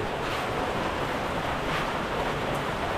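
Strong floodwater rushes during heavy rain as homes flood, a continuous broadband roar that stays steady and close with wind buffeting the microphone and no voices.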